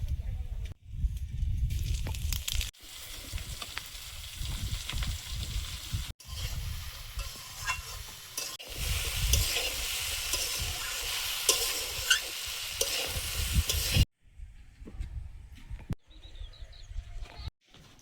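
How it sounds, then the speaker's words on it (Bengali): Dried red chillies and cumin seeds sizzle in hot oil with a steady close hiss that is broken by short pauses and stirring scrapes, and no one speaks. "শুকনো লঙ্কা তেলে দিয়েছি,"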